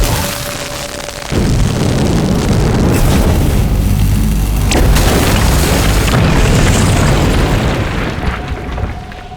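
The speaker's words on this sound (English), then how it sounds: "There does seem to be a rather large cannon here." A large cannon firing in the video game We Happy Few, a heavy, loud boom that bursts in after a moment of quiet and rolls on as a long, deep rumbling roar before fading.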